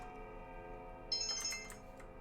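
A phone-style notification chime from Pathologic 2, resembling the Persona 4 phone sound, a brief bright tone burst rising over a steady hum of game ambience, then fading.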